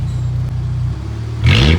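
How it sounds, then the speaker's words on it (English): A warmed-up Ford Ranger pickup idles low and steady in an empty parking lot, then its engine revs up sharply near the end, loud and close. "we're gonna rev the car now. It's warmed up. We're just in an empty parking lot so you guys can hear how it sounds"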